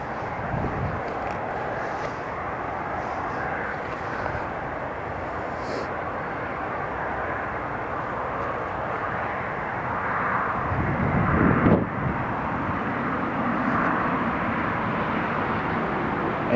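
An airplane takes off from Newcastle International Airport in a sharp, airshow-style departure. A broad engine roar fills the whole stretch and swells louder near the end, with no talking.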